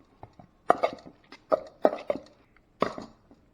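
Shrimp salad seasoned with salt and pepper is mixed in a bowl, making a few irregular, close wet thuds and clacks with quiet pauses between them.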